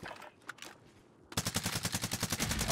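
Enemy automatic gunfire in the Warzone video game: quiet scattered shots at first, then from about midway a loud, rapid, steady burst of rounds continuing to the end, with no talk.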